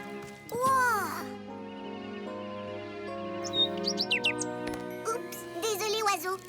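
A cartoon bird chirps in quick, bright bursts over sustained, tinkling musical tones from a children's animated show, the calls arriving in two short clusters near the end.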